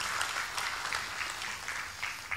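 Audience applause fills a hotel conference hall during a company presentation, a steady patter of many hands clapping at moderate loudness with no speech over it.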